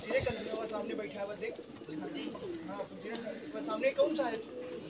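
High flyer pigeons, a breeding desi flock, coo low and steadily beneath a man's near, continuous talking.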